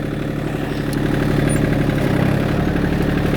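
An old John Deere tractor engine runs steadily at close range, a loud low rumbling idle-like drone with a slight rise in pitch partway through as it pulls off in first gear on a rural property path.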